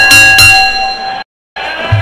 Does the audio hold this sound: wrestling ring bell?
yes